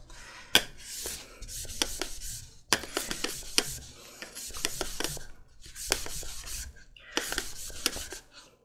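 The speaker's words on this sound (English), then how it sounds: "I'm just using a chunk of PVC pipe to smooth that out a bit." A chunk of PVC pipe rubbed back and forth over finger-woven fabric, producing rhythmic scratchy swishing strokes in close, repeated bursts with short pauses between.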